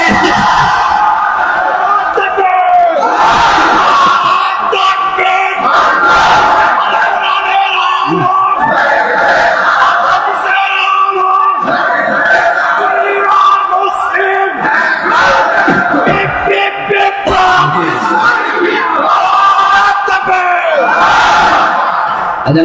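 A large crowd at an outdoor Islamic sermon gathering in Maheshpur, Jhenaidah, chants takbir in loud, repeated collective shouts answering the preacher, rising and falling in waves throughout.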